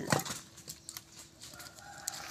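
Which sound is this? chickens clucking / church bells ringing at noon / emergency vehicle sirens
chickens clucking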